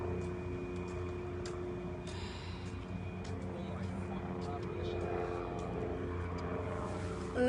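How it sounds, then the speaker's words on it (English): Helicopters circling overhead during the Minneapolis unrest of May 2020 give a steady, droning engine and rotor rumble that runs unbroken throughout, with faint muffled voices beneath it. "And they have helicopters circling."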